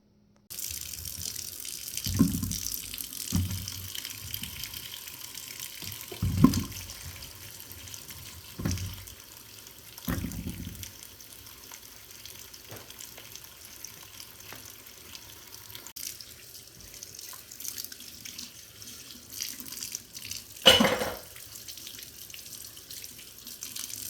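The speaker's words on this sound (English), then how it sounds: "let me get these herbs washed up and put them in baggies" Fresh herbs are rinsed under a running kitchen tap, a continuous close rush of water with intermittent splashes and knocks as leaves are handled, and no voices.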